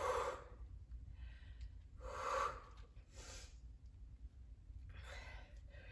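Rhythmic breathing during a resistance band home workout: three or four broad, airy breaths spaced roughly a second apart, close to the mic, over a low steady background hum.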